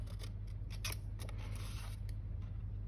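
Scissors snip through paper along drawn lines to cut a pop-up card mechanism, a close series of short, crisp cuts in an irregular rhythm over a quiet low hum.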